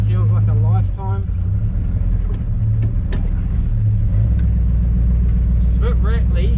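A 1946 Chevy pickup with a 350 small-block V8 rumbles along as it drives, a steady low engine drone with some rattle, loud and close, with people talking over it.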